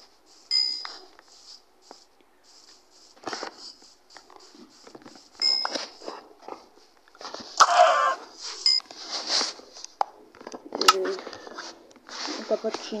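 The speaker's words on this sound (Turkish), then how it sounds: "Tavuk var." Chickens in the Minecraft video game cluck in scattered short bursts under a player's ongoing speech, with quiet gaps between calls.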